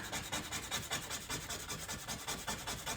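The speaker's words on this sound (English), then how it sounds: "Finish this up on the sandpaper." A Victorinox toothpick is rubbed back and forth on sandpaper, a close, rhythmic scratchy rasp of quick repeated strokes, with no voices.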